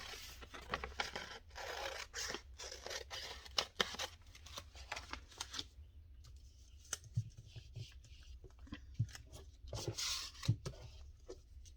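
Paper is cut down for a handmade envelope journal, giving close, uneven snips and papery scrapes and rustles that come intermittently over about twelve seconds with no talking.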